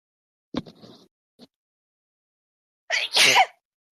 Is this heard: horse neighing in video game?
no